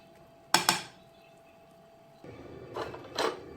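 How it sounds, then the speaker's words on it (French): Bell peppers are grated by hand for a mhajeb filling, giving two separate bursts of close scraping and rasping with a quiet pause between them. "là je commence par râper les poivrons"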